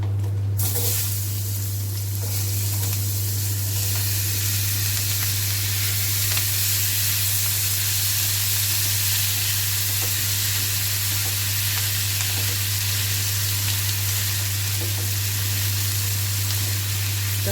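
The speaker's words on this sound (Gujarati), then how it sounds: "કાજુ અને મરચાંને થોડા સાંતળી લઈશું આપણે। હવે તેમાં ડુંગળી ટામેટાં એડ કરી દઈશું।" Cashews and chillies sautéing in a hot pan, then onions and tomatoes added, a steady bright sizzle and hiss that holds for the whole stretch over a constant low hum, with no talking.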